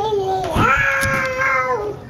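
A voice imitates a cat, giving a drawn-out, wavering meow followed by a second shorter meow, close and clear.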